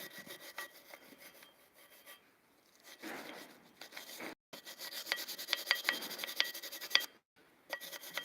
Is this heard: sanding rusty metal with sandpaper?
yes